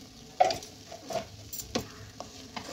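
A spoon scrapes through nearly cooked rice dotted with ghee in a pan, giving a few soft, irregular stirring strokes close by over a faint, low sizzle.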